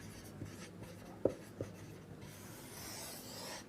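Writing on a board in a classroom, a quiet, continuous scratch and rub of the marker or chalk with a couple of sharp taps from strokes, close by with no talking.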